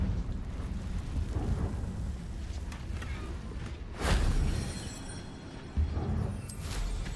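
A Confringo blasting spell in Hogwarts Legacy goes off as a deep, rumbling blast over a low background roar, followed by a second, smaller thump shortly after.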